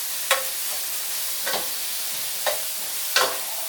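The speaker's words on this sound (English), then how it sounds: "I'm going to stir in the garlic." Garlic and tender vegetables are stirred in a hot frying pan, with a steady sizzle running throughout. About four distinct utensil scrapes land roughly one second apart, close and moderately loud.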